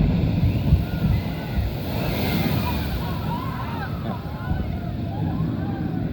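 The big splash from the Shivering Timbers water ride at Michigan's Adventure amusement park is a broad, steady wash of rushing water heard from a distance, mixed with wind noise and a brief voice.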